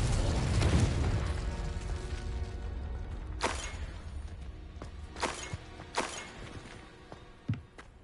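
Confringo spell blasts in the game Hogwarts Legacy: a heavy rumbling explosion up front fades, followed by several sharp, separate bursts and pops spaced a second or so apart, fairly loud against quieter background noise.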